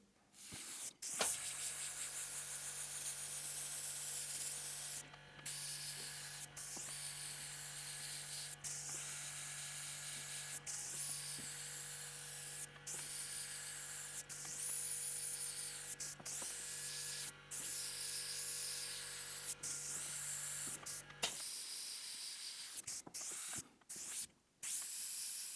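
An Iwata HP-C airbrush sprays in a long steady hiss with a faint mechanical whine, cut by brief pauses at regular intervals, then stops and leaves a few short bursts and quiet handling.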